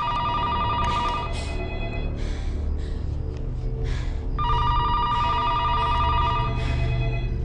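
In a horror film, an old-style telephone bell rings in two distinct bursts separated by a short pause, with faint breathy sounds and rustling in between.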